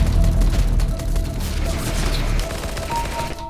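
Rapid gunfire comes from a gun in a video game, with loud continuous bursts of shots rattling throughout and game effects layered over them.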